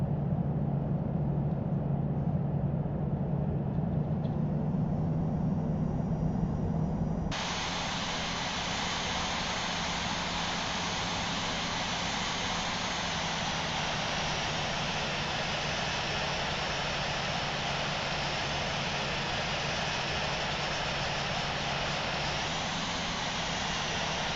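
A simulated airliner jet engine hums while taxiing in a flight simulator game, a steady, even whine and rumble that jumps louder about seven seconds in and then holds level and close, with no speech.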